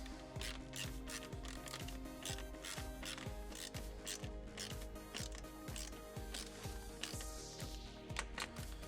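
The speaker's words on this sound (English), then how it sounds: "Tighten these all the way up." A ratcheting driver tightens screws on a vehicle kick panel with rapid, regular clicking, repeated in close, steady bursts throughout with no speech.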